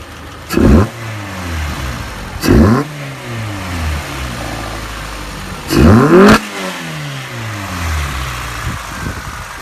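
A Peugeot 206 fitted with a new air intake, warmed up, revving in three sharp bursts, the last a quick double, rising and falling from a steady idle, loud and close.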